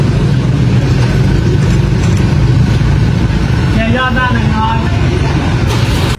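A rented motorbike idles close by in Chiang Rai, northern Thailand, before refuelling, its engine holding a steady mid-low drone while people talk over it partway through.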